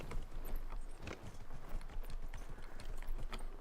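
Hooves of a horse in Dragon Age Inquisition clip-clop rapidly and steadily as it runs, a continuous close galloping rhythm with faint game ambience.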